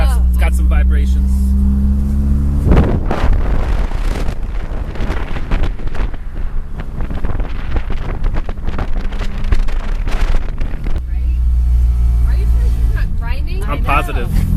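A 1989 Acura Integra driving with a vibration, giving a loud, steady rumble of engine and road noise mixed with wind buffeting throughout, and voices talking over it.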